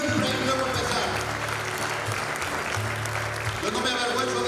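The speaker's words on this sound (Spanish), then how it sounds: "Dale un fuerte aplauso a la iglesia del Señor" An evangelical church congregation claps in sustained applause for several seconds, a dense wash of hands with voices mixed in underneath.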